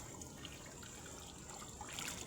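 A faint, continuous trickle of water flows through the jungle, a soft, even wash with no voices over it.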